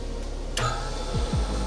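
A piston ring grinding tool works rings for a Porsche 930 engine, giving a steady mechanical whir with one sharp click, then two low sliding groans near the end, close and moderately loud with no talking.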